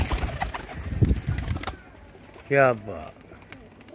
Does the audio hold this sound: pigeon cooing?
yes